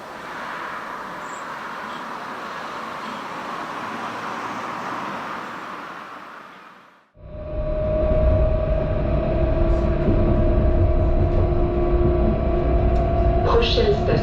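A Mulhouse line L2 tram rumbles along, then the sound dips sharply as it passes under a railway bridge and returns louder, with a steady tonal whine and rolling wheel noise.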